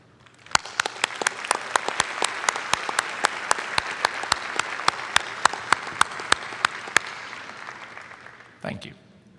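Students applauding faculty at a college commencement ceremony, a broad sustained round of clapping with distinct louder claps punctuating it, before it cuts off abruptly and a brief voice follows.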